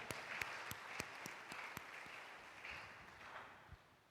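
A church congregation at a Sunday service claps along, sharp hand claps ringing out irregularly at first and then blurring into softer, scattered applause, all fairly distant and quiet.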